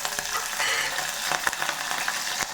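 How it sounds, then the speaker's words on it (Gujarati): Cumin seeds and chillies hitting hot oil for a tempering, a loud, close, continuous sizzle with a few sharp pops and crackles, no voices. "હવે આપણે વઘારમાં જીરું નાખીશું,"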